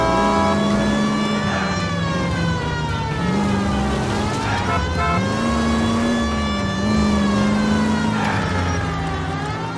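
A car races through an L.A. Noire car chase, its engine droning steadily while a wailing police siren rises and falls over it, loud and continuous.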